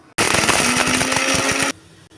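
A short, loud burst of a mixer grinder whirring and chopping small onions for about a second and a half, starting and stopping abruptly, with no voices.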